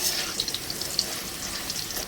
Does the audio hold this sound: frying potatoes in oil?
yes